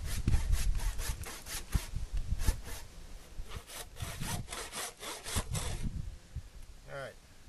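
A hand saw cuts off the excess toe of a pony's overgrown hoof in a rapid series of rasping back-and-forth strokes that fall silent near the end, close and fairly loud.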